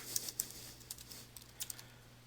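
A date is typed on a computer keyboard into an Access query: a quick run of soft, close keystroke clicks in an irregular rhythm over a low, steady hum.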